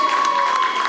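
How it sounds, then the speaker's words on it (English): Audience applause and cheering from a crowd, a steady dense wash of clapping and voices filling the whole brief moment at even loudness, with a faint sustained tone running underneath. "Can we just give a round of applause for that?"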